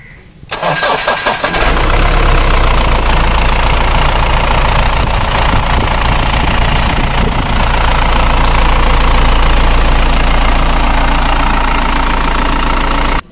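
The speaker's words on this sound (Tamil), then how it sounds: "இப்போ வண்டியோட இன்ஜின் சவுண்டை நீங்கள் லைவாக கேட்கணும்ல கேளுங்கள்" A Mahindra Bolero SUV engine cranks and catches, then settles into a loud, steady idle with a constant low rumble that runs to the end.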